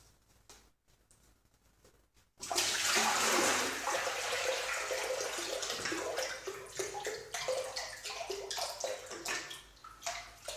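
Discolored brown water gushes and splashes steadily from a jug into a basin, a loud continuous pour that gradually turns choppier and gurgling toward the end.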